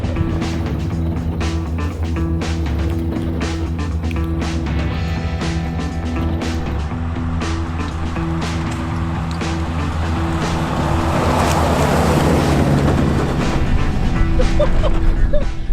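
A small Toyota Tacoma pickup truck with 150 horsepower races a timed course. Its engine drones steadily, then grows louder and rougher near the end as it pushes harder.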